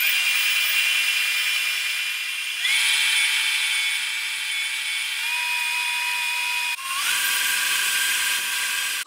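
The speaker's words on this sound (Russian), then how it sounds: "Начинаем взбивать сливки. Сначала на маленькой скорости и постепенно увеличиваем." Electric hand mixer whipping cream for a condensed-milk cake, a steady high whine that steps up in pitch as the speed is raised in stages, loud and close with no talking.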